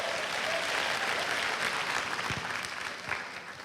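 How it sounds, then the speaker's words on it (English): Audience at a high school graduation convocation applauding, a dense wash of many hands clapping that holds steady, then gradually thins and fades toward the end. "And you can clap for that"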